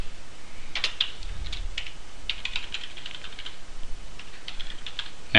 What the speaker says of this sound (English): in the command prompt, we're going to type the following with hitting enter at the end of each line